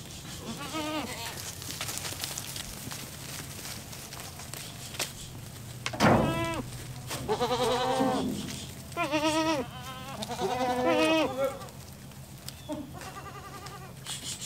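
Several farm goats bleat in repeated wavering calls, some close and loud, others softer, with a thump and a few footsteps on a quiet farm.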